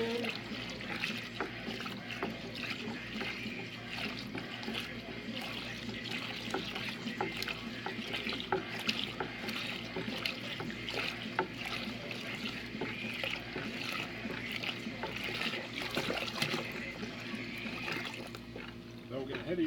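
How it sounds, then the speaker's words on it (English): Water poured from a jug into a brewing mix for a Viking-style brew, a soft steady trickle and splash running throughout, with people talking over it. "Pour some more water in."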